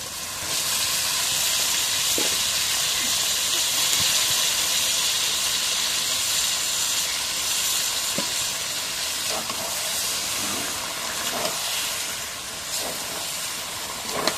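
Goat meat hits a pan of spice paste fried until red, giving a loud, continuous close sizzle and steamy hiss with occasional soft stirring knocks.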